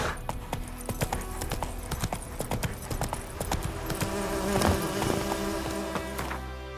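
Roach the horse trots along in The Witcher 3, with crisp, close hoof clip-clops in a quick, steady rhythm over a faint insect-like buzz, and no talk.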